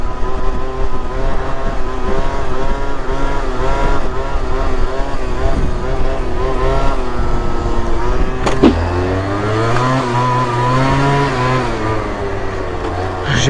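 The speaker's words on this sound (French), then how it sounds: "Je kiffe faire des petites symphonies avec le scooter." A Booster Spirit scooter engine revs hard in rising and falling whines, sustained and close, then drops to a lower idle-like drone near the end with a sharp click in between.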